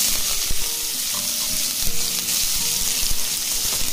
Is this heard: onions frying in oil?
yes